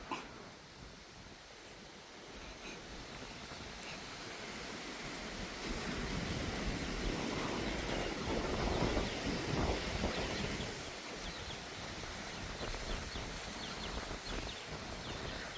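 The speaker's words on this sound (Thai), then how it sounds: "เสียงลม เป็นตะยานคัก" Strong, cold evening wind gusts steadily over open countryside, a broad continuous roar that swells louder midway and then eases slightly, with no voices.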